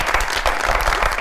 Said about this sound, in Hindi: बहुत सारी तालियां बॉस साहब के लिए